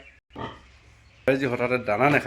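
A large pig grunts in short rough bursts at close range, with a brief quiet gap before louder, harsher grunting takes over.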